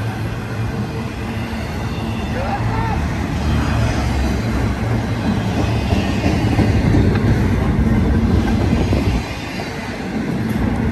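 A BNSF eastbound freight train of double-stack containers in well cars rolls past close by, with a loud continuous rumble and clatter of wheels that eases slightly near the end.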